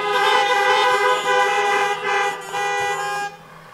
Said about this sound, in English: please honk your horn for the Town Mayor.